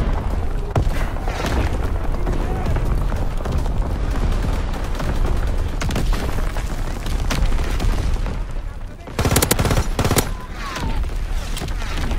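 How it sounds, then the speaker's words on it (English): Repeated booming artillery explosions and gunfire from Call of Duty WW2 Domination multiplayer roll continuously and loudly, with dense blasts and a brief lull before another heavy burst. "Incoming enemy artillery."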